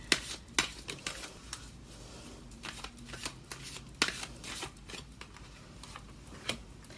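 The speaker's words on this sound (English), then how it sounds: "I'm going to pick 3 cards from the 8th House Tarot" A tarot deck is shuffled by hand nearby in a quiet room, with quick riffling bursts and soft card slaps repeating in an uneven rhythm.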